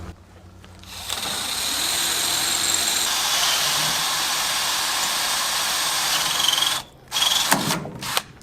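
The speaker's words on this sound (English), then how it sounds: "some of the last old rivets that we have to drill out on the entire bus." A power drill bores out old rivets on a school bus being converted to a skoolie, grinding at a steady, loud pitch for several seconds, then stopping and starting in short bursts near the end.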